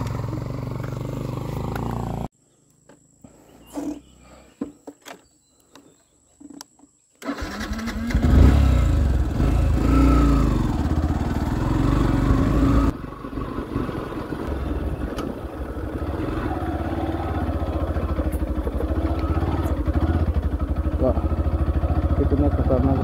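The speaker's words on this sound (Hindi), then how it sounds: "तो फाइनली एक बाइक वाला आ रहा है" A motorcycle climbs a dangerous mountain road, its engine rising out of a quiet, sputtering stretch into a loud, steady drone up close, with voices at times.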